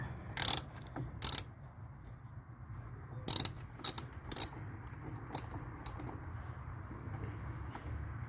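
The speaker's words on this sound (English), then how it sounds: "you find the right socket that's going to fit it, and you loosen it up" A socket ratchet loosens a car battery terminal nut in a series of short, crisp clicking bursts spread irregularly over several seconds, close and fairly loud against a quiet background.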